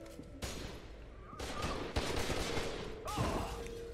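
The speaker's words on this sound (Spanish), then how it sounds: "Se me están pegando más tiros por ahí." Gunfire in the video game FEAR 2, with sharp bursts of shots recurring over a dense, loud in-game background across the clip.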